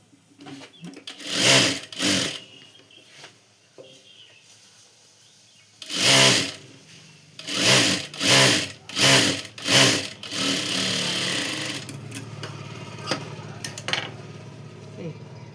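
A sewing machine stitches a strip for a katori blouse in several short, loud, close bursts of rapid whirring, with pauses between them and a softer sustained run near the end.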